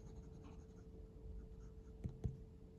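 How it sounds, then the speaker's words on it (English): A fountain pen with a medium steel nib scratches faintly across paper in a quiet room, soft continuous scribbling capped by two sharp taps near the end. "This pen writes super, super wet."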